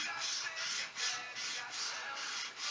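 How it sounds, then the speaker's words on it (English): Soft, rhythmic rasp of 320-grit sandpaper wrapped on a half-round block working along the curve of a wooden shotgun stock, with steady back-and-forth strokes, quiet and close. "I always try to sand with the grain."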